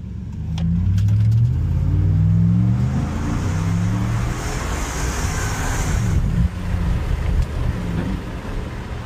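A RAM truck's 5.7 Hemi fitted with an Edelbrock supercharger accelerates under load, a steady loud low rumble with rising tones through the first half, then a sustained roar with wind buffeting and no voices.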